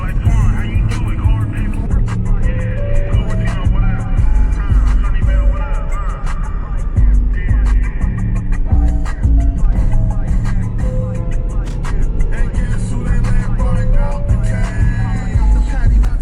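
A Mazda 5 with a 2.5 engine and a 6-speed manual gearbox is driven while held in gear, its engine giving a steady, loud drone that runs unbroken for the whole stretch.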